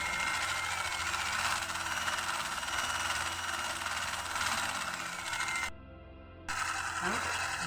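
An electric mixer beats eggs with sugar for a sponge cake batter, a steady, close motor whine and hum running throughout, cut off briefly before resuming.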